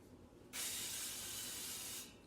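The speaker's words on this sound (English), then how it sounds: "we can go ahead and spray our baking pan." Cooking spray hissing onto a baking pan in one continuous burst of about a second and a half, close and fairly loud over a quiet kitchen background.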